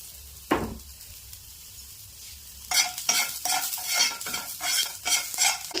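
Pieces being stir-fried in a pan for egg fried rice: a sharp tap near the start, then from the midpoint a run of rhythmic scraping stir strokes over a light sizzle, close and fairly loud.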